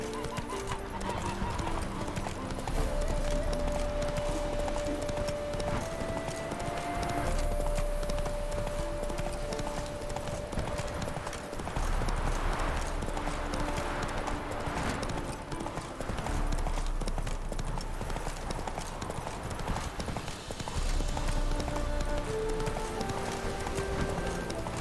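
Roach the horse clip-clopping along in The Witcher 3 video game, steady rhythmic hoofbeats with an occasional whinny, set against a continuous game music score.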